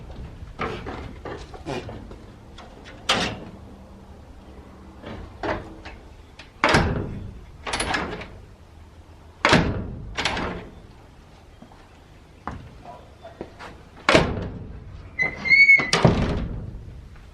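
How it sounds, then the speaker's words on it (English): A reclaimed wooden door on the back of a workshop shed, fitted with foam for quiet closing, is swung open and shut repeatedly, giving a series of close, sharp knocks, thuds and latch clicks with brief creaks in between. "I love how that opens."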